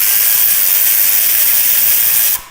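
Torx 27 driver ratcheting a bolt out of a Harley Road Glide motorcycle, a close, steady run of fine metallic ratchet clicks lasting a couple of seconds and then stopping abruptly.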